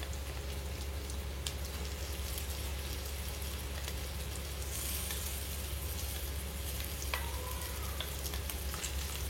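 Sorrel leaves frying in plenty of oil for a chutney, giving a steady, dense sizzle with fine crackles that runs unbroken and close throughout, with no voices.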